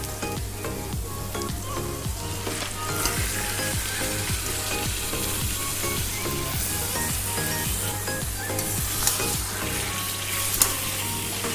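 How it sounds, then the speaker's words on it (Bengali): Marinated chicken frying with spices in a pan, a dense continuous sizzle and bubbling with steady stirring throughout. "মশলাগুলো সমস্ত যখন হালকা ভাজা হয়ে যাবে তখন আমি দিয়ে দেবো ম্যারিনেট করে রাখা চিকেনটা"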